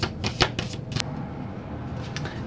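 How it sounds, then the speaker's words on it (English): Tarot cards being shuffled by hand: soft, irregular papery riffles and taps, close and quiet, ending in a few scattered light flicks. "Go ahead and finish shuffling."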